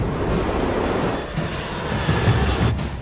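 American International Airways flight 808, a jet airliner on final approach to land, roaring with a loud sustained engine drone that swells slightly, heard close and alone without speech.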